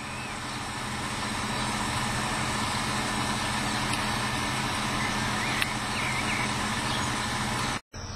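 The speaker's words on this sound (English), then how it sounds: "We're just driving along" Car cruising along a country road on a hot day, a steady, fairly loud engine and tyre drone that holds constant, with one brief dropout near the end.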